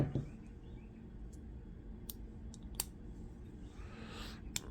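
Sharp clicks from an Olight flashlight switch with a firm detent, a few isolated clicks spaced across a quiet, low background hum, fairly close.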